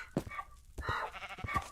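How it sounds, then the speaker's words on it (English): Sheep in the video game Minecraft give a few short, nasal bleats in quick succession, close and clear, with brief gaps between them. "Well, there's a sheep in here."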